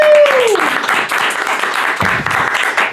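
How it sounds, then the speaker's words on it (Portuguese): Studio audience applause welcomes a guest on a Portuguese-language podcast, dense clapping that runs through the clip at close range, with a brief falling whistle-like tone at the start. "Aplausos!"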